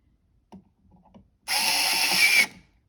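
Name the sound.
Qybeede cordless electric screwdriver unscrewing a screw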